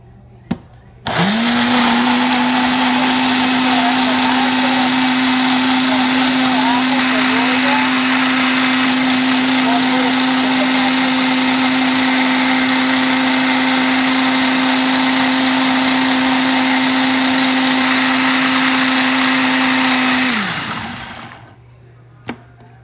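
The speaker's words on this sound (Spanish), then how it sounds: "Y aquí vamos a licuar lo que tenía en el vaso de" An electric blender purees ingredients for Mexican red rice, starting abruptly with a loud steady whirring drone that holds for about twenty seconds before winding down, with a click at each end.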